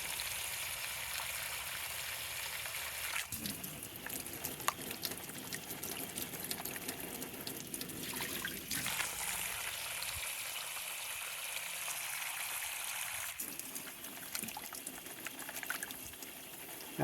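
Gold-panning water swirls and pours while mud is washed from a pan in a mine: faint, close sloshing and trickling that swells in several waves, with no talking.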